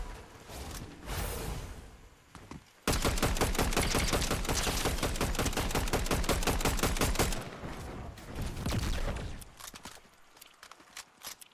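Rapid automatic gunfire in a Fortnite Chapter 6 Zero Build match, a long dense burst of evenly spaced shots lasting several seconds, loud and close, preceded and followed by quieter game noise and scattered shots.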